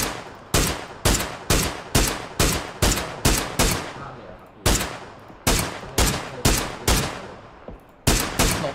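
Gunfire in the video game PUBG: a long run of about fifteen loud, sharp single shots fired at a fairly steady pace, with one brief pause, each crack decaying quickly, and no talking.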